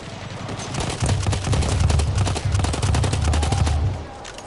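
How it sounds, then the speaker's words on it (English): Enemy machine gun fire in a multiplayer shooter match, a long steady stream of rapid, evenly spaced shots lasting several seconds, loud and continuous before tapering off. "Enemy machine gun over there"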